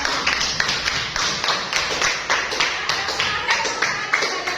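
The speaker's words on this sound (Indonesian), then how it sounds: "Itu tepuk tangan dulu" An Indonesian classroom of students clapping their hands together on the teacher's cue: a run of sharp, fairly regular claps from a small group, close and distinct, with no speech over it.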